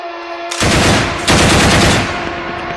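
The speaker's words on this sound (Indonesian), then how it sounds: "lalu diberondong dengan tembakan" Sustained burst of machine-gun fire, loud and close, rattling continuously for about two seconds with a brief break and a second surge, set against a steady background hum.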